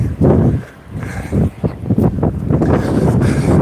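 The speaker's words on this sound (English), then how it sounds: "Besides the wind, the hurricane gale feeling, that's a little rough to run against." Strong gusting wind buffets the microphone of a runner on a road outdoors, with low rumbling roars that swell and drop in uneven bursts, loud and close.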